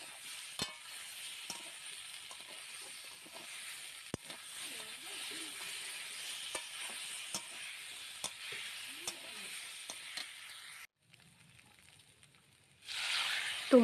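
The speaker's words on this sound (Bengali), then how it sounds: "তো সব এখন একসাথে দিয়ে মশলা আর সবজিটাকেও আরও কিছুক্ষণ কষে নেব।" Vegetables and ground spice paste of onion, ginger and cumin sauté in a pan for a fish curry with green banana and papaya, giving a steady low sizzle with scattered spoon scrapes and clinks, a quiet pause, then a louder burst of frying at the end.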